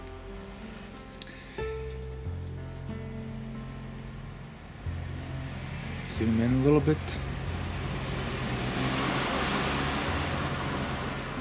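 Street traffic on a main road at night under a full moon, a low steady rumble with a vehicle swelling closer and growing louder toward the end, with a brief spoken remark early on.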